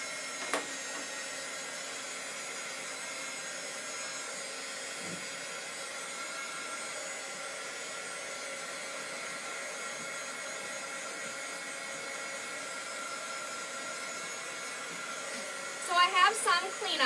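A hair dryer blows steadily to dry a chalk transfer in a craft setting, a constant close whirring hum that holds unchanged for about sixteen seconds before a few brief handling noises at the end.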